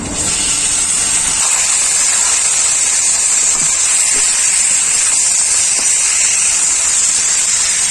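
Chicken liver sizzles in a pan with ginger and garlic, a loud, steady, bright hiss that holds evenly throughout without pause.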